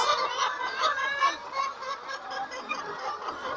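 Laying hens on a poultry farm in Nigeria cluck and murmur steadily from their nests, a dense chorus of overlapping calls close by with no voices.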